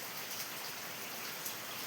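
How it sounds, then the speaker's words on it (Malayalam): Steady, even hiss of rain falling outdoors at a flooded spot, with faint patter spread throughout and no voices, moderately quiet. "മഴ പെയ്തുകൊണ്ടേ ഇരിക്കുന്നതാണ് ഗൈസ്. വീണ്ടും പെയ്തുകൊണ്ടേ ഇരിക്കുന്നുണ്ട്"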